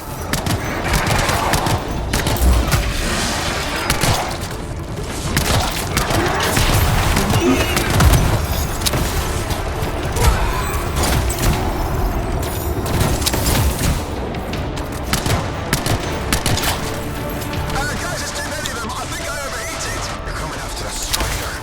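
Gunfire in the Anthem video game, a dense and continuous spray of loud shots, impacts and booms throughout a long fight, close and chaotic, with voices talking in places over the battle.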